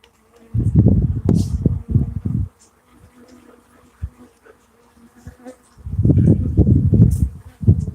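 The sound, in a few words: guard bees buzzing around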